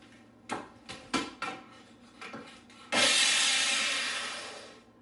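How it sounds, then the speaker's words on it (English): A coin ring is rubbed with sandpaper: a few short scraping strokes in a loose rhythm, then one long, louder continuous rasp that slowly fades, close by and without talk. "we'll get some sandpaper and smooth that out"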